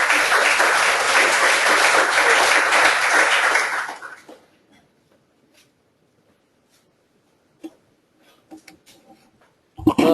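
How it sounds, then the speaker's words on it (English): A crowd applauds loudly for about four seconds, then the clapping stops abruptly, leaving near silence with a few scattered small noises. "So let's give a big round of applause to Ken Stowe."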